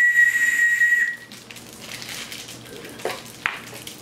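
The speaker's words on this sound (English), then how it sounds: "I'm going to throw the whistle away immediately." A shrill toy whistle blows one sustained high note for about a second, then breathy hissing and a couple of soft knocks follow.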